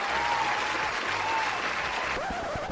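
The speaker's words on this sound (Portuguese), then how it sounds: "Palmas, por favor, editor." A canned applause sound effect dropped into a Portuguese-language podcast, a dense, even burst of clapping and light crowd noise lasting a few seconds at steady volume.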